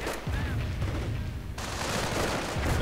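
Bursts of gunfire cut down stormtroopers in a World War II strategy video game, with sharp rattling shots and booms over a dense battle din for a few seconds.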